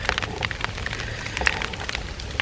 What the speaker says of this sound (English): It's little pieces of hail. It's starting to hail.